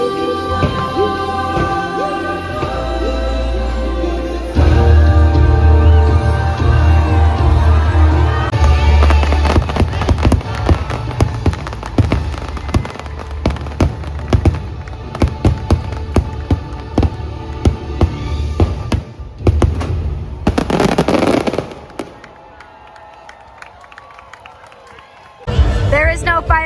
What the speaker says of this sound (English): There is no fireworks show on Earth better than Happily Ever After.